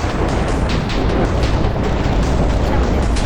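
Loud, sustained roaring rumble like an explosion or thunder-like boom in Minecraft, a dense continuous blast filling the whole moment with no talk over it.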